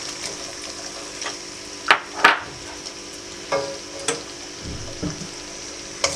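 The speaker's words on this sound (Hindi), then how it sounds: "अब आपने इसी गर्म ऑयल में प्याज डाल देनी है" Sliced onions are added to hot oil in a pan for chili chanay, frying with a soft steady sizzle broken by a few sharp crackles and spits, no talking.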